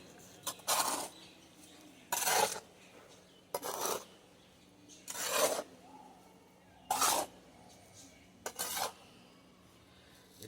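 Sand and cement mortar mixed by hand in six separate scraping, rasping bursts spaced a second or so apart, close by, with quiet pauses between strokes.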